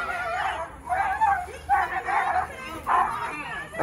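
A dog whimpers and yelps in repeated strained bursts during a pitbull attack, with people's voices mixed in throughout.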